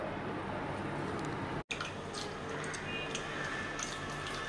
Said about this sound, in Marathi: आता हे दोन तीन पाण्यामधून छान आपल्याला धुवून काढायची आहेत